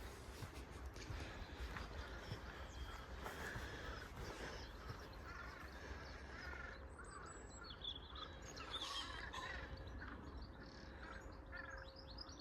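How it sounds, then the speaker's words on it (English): A bird makes a gurgling, bubbly call from some distance along a countryside stroll in the Cotswolds near Stoke Orchard, faint against a soft outdoor background with a few brief chirps. "There is some bird over there making quite an exciting gurgling noise"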